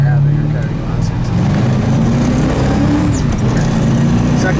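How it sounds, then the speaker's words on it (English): A 1964 Mercury Comet Cyclone pulls hard in second gear, loud engine roar close by with tires scratching, accelerating steadily over a few seconds while a voice talks over it. "Second gear scratch."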